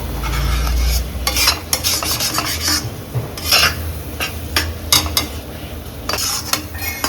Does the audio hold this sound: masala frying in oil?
yes